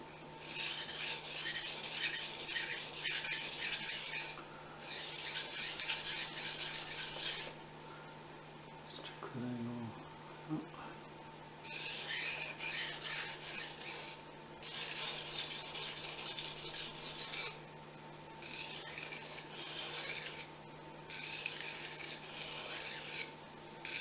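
Fujimoto Honesuki knife sharpened on Japanese waterstones: steady rhythmic rasping strokes of steel across wet stone, grouped in long runs with short pauses and a brief soft clatter midway, close and clear over a faint hum.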